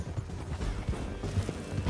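A horse galloping in the video game Red Dead Redemption 2 during a canyon ride, its hooves a quick, uneven clip-clop of low thuds under a constant rushing background.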